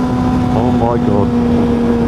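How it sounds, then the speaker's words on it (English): A Suzuki GSX-S1000GT motorcycle engine in second gear drones at constant revs with a sustained tonal hum, and a voice speaks briefly partway through. "Second gear sounds lovely."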